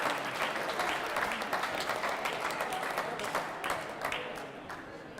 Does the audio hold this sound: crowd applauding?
yes